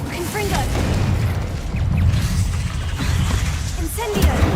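Confringo blasting spells from a Harry Potter video game erupt in a dense, continuous barrage of loud booms, pops and whooshes layered over one another with hardly a pause.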